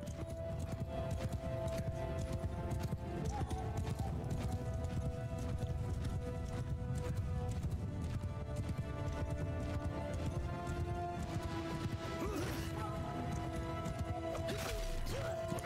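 Continuous clip-clop of many galloping hooves, dense and rhythmic, with occasional clashes and a distant whinny over a busy battle din in the video game Mount & Blade II: Bannerlord.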